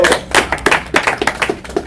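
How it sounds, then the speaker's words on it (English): Brief scattered clapping from a small audience at a tech presentation, a handful of distinct claps in an uneven rhythm, fairly quiet and close. "Can we have an applause on this?"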